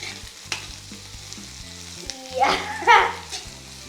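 Onion sautéing in a pan for a dry potato bhaji, with faint frying under a low background tone, then a short burst of louder sizzling and stirring near the end.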